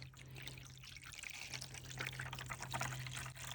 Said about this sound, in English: We are going to fill it up with some water from the rain barrel again